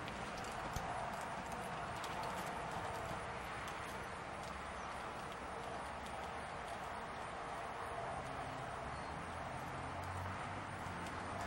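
Hooves of a ridden horse clip-clop steadily over the ground in a continuous walking rhythm, close and fairly loud, with a constant outdoor background.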